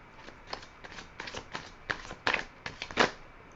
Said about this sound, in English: I will do another shuffle and rifle